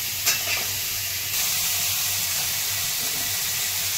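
Stuffed brinjal sizzles in hot oil in a home kitchen, a steady close hiss of frying with a brief stirring clatter near the start and no talking.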